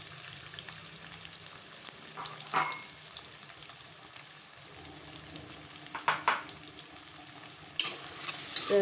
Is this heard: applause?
no